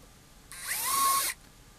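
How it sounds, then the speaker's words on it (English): A small power drill whirs for under a second while drilling a side-dot hole in a guitar neck, its pitch rising as it spins up, then stops abruptly against a quiet background. "So here I'm just drilling for some side dots."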